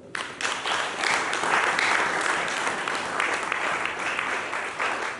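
A church congregation claps steadily through a sermon, a dense wash of applause rising quickly and holding loud and even for several seconds with no talk over it.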